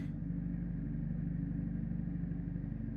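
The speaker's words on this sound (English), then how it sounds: "You can hear some of them revving their engines." Race car engines in the Assetto Corsa racing game at Interlagos hold a steady, close, droning idle with a faint rhythmic pulse, with no clear rev peaks and no talking.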